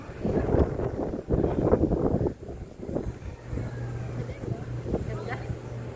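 Wind gusting outdoors, rushing heavily at first and then easing, with a low steady engine hum underneath.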